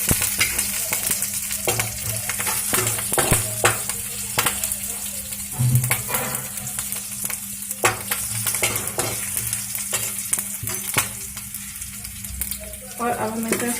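Cumin seeds and green chillies sizzle and crackle steadily in hot oil in a pan, with scattered sharp pops and occasional stirring clinks throughout.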